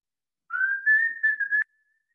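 Someone whistles an imitation of a songbird, a single clear phrase of about a second with slight pitch wavers and short breaks, alone in silence.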